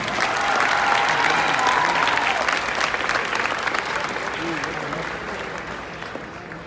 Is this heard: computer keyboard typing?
no